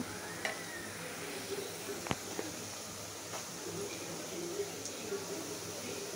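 French fries frying in hot oil, a steady soft sizzle and hiss running throughout with a few brief clicks and pops, close and fairly quiet.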